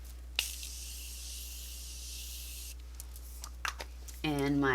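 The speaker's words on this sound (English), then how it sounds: "Now I'm using my Morphe spray" Morphe setting spray is misted onto a face, giving a steady soft hiss for about two seconds, followed by faint taps and then a voice speaking.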